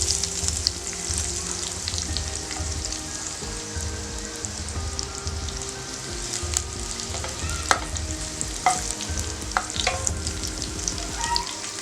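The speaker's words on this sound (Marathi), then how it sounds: "फोडणीतली लसूण चांगली परतून घ्यायची आहे।" Crushed garlic frying in a spoonful of hot oil for tempering a Malvani pomfret curry, a continuous close sizzle with crackling pops and occasional stirring scrapes, and no voices.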